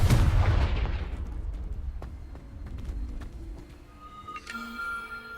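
Confringo explosion spell in Hogwarts Legacy: a loud, booming blast that rumbles and decays over a couple of seconds, followed by scattered crackles and a brief shimmering magical chime.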